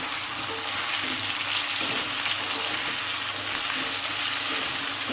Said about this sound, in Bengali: এখন ওই মাছ ভাজার তেলে একটু পেঁয়াজ, আলু, টমেটো একটু ভেজে নিচ্ছি।